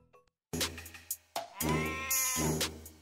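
An old goat bleats in a children's fairy tale, several loud close wavering cries with short pauses between them.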